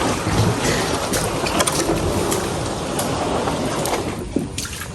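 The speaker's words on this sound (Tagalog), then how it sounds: "Tinutulak po muna ni Papa itong bangka." A wooden boat is pushed through river water, giving a steady wash of splashing and rushing water with wind noise and scattered knocks, close and fairly loud.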